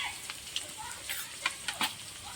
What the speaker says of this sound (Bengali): এই তেলেই আলুগুলো ভেজে নেব।